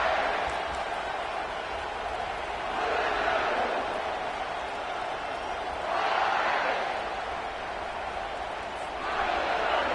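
Football stadium crowd at a Kentucky versus Mizzou game cheering in loud, swelling waves, a dense continuous roar that rises and falls every few seconds.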